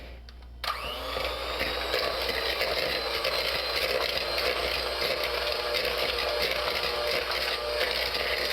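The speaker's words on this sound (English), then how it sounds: "I'll be using my hand mixer because the measurement is small, so no need to use the big mixer." A small electric hand mixer creams butter and sugar for banana cake, starting abruptly and then whirring loudly and steadily throughout with a rough grinding edge; no voices.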